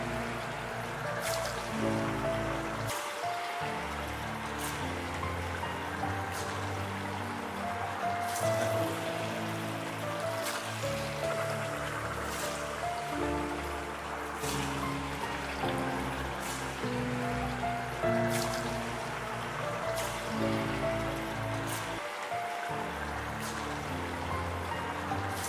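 Halu garige snack dough frying in moderately hot oil, a steady, dense bubbling sizzle that runs throughout with faint periodic clicks, no voices.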